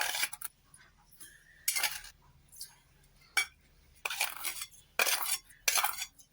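A spoon clinks and scrapes against a bowl while besan batter for dhokla is mixed with sugar, salt and turmeric, in several sharp bursts with quiet pauses between, close up.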